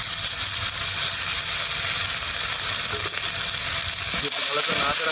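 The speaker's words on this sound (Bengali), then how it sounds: "এবার আমি আদা বাটা রসুন বাটাতে দিয়ে দেবো।" Fried onions in a pot sizzle and crackle steadily as ginger and garlic paste go in for a Kolkata-style egg dum biryani, a dense continuous frying hiss with a few stirring knocks near the end.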